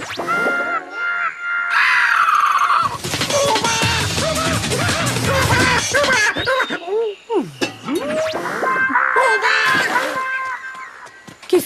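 The cartoon Marsupilami shrieks and cries out in terror, a long run of loud, frantic, shifting yelps and squeals with cartoon effects mixed in, continuing almost without pause.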